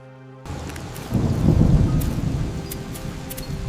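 Steady rain pours down in an animated cartoon while a deep roll of thunder swells and rumbles, then fades under the continuing downpour.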